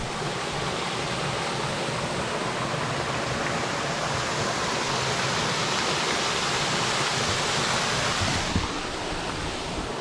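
Waterfall pouring into a small turquoise pool at an abandoned Arkansas town site, a steady, loud broadband rush that holds unchanged throughout with no voices.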